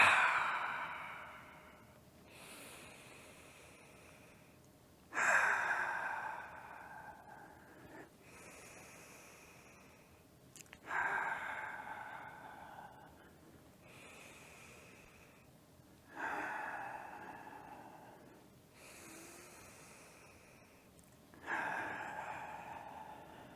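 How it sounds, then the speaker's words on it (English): Loud, forceful exhales during a qigong punching exercise repeat about every five to six seconds, each a sharp breathy burst that fades, with quiet breathing between. "As you exhale, punch one hand forward."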